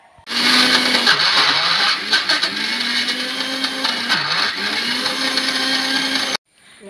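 A mixer grinder grinds sesame seeds and flattened rice into karkidaka powder, starting abruptly with a loud, close, high whirring motor whose pitch dips and rises as the load shifts, then stopping sharply.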